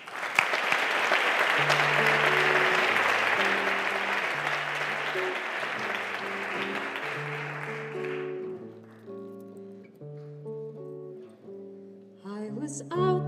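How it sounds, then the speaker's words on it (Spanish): A crowd claps loudly for several seconds, then the applause fades as a simple tune of sustained tones rises and carries on alone. "Muchas gracias y un fuerte aplauso."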